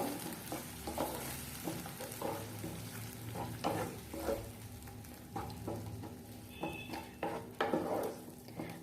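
Ground chicken gravy paste fries with browned onions in a pan, a quiet sizzle broken by repeated scraping and stirring knocks of a spoon against the pan.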